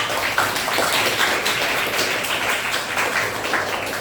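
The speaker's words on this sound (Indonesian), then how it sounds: "kita beri tepuk tangan dulu untuk" A classroom gives a round of applause during a lesson on the eclipse prayer, with dense, continuous clapping from many hands at a steady level.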